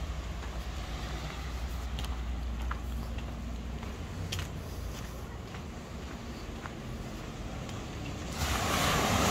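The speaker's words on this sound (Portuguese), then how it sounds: "Olha o mar aí, ó." Ocean surf at a beach in Bombinhas, Santa Catarina, rolling as a steady loud roar with wind buffeting the microphone and the waves swelling louder near the end.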